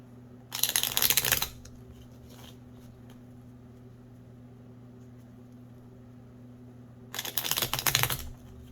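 Tarot cards being shuffled, heard as two brief, crisp riffling bursts at the start and near the end, close by, with a quiet room hum between them.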